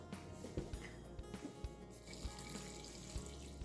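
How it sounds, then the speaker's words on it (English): Quiet warm water trickles and splashes into a bowl for Korean seaweed soup, with faint drips and small knocks scattered throughout. "Pour warm water into the bowl."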